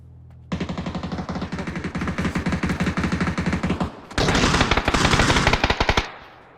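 Rapid automatic gunfire in the PUBG video game rattles out in a long, loud, evenly spaced burst, pauses briefly, then resumes even louder and denser before stopping.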